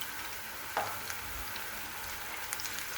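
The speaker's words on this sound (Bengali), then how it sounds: "এভাবে আমি ফুলকপিটি ব্যাটারের ভিতরে এরকম করে চুবিয়ে গরম তেলে ভেজে নিচ্ছি।" Cauliflower florets dipped in batter crackle and sputter steadily in hot oil, a dense continuous sizzle with a few sharper pops, close and fairly quiet with no voices.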